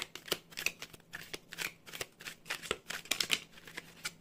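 Tarot cards shuffled by hand, a rapid series of crisp riffling and flicking bursts in an uneven rhythm, close and clear with no voices.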